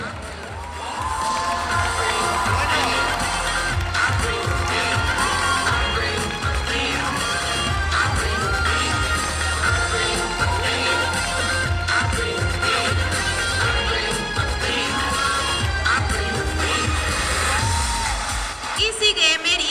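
Audience at a cosplay walkway contest at Japan Weekend Barcelona cheering, whooping and shouting in a sustained loud crowd roar lasting nearly twenty seconds, with an announcer's voice over it.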